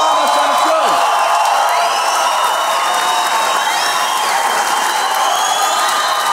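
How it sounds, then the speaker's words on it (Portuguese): A comedy show crowd applauding and cheering a comedian with whoops and shouts over steady, loud clapping that holds for several seconds. "Uma salva de palmas, senhoras e senhores"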